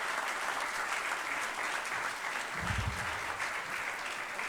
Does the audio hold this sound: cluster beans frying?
no